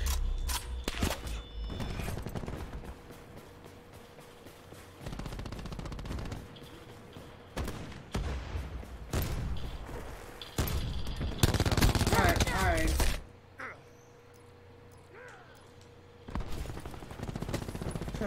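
Spitfire submachine gun firing in Black Ops 4, long loud bursts of rapid automatic fire broken by short pauses, with other distant gunfire and game effects around it.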